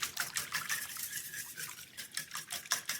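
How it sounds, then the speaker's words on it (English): Whisk stirring a meatloaf mixture of ingredients including mustard in a bowl, a steady run of quick, rhythmic scraping and sloshing strokes close by, with no talking. "Give that a whisk, get all that"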